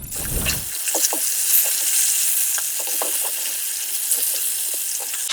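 A fish head fries in a pan, giving a steady bright sizzle throughout, with a short rumbling clatter at the start and scattered ladle scrapes and taps as it is turned; no talking.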